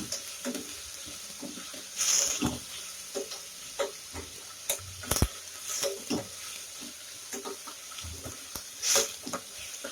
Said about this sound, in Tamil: இப்போ இந்த வெங்காயத்தை வந்து நல்லா பொன்னிறமாக வதக்கிடுங்க